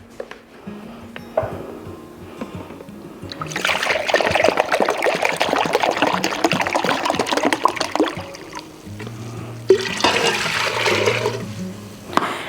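White vinegar poured steadily into a pot for a pickling brine for okra, a broad gurgling liquid stream lasting several seconds, then a second shorter pour, close and fairly loud.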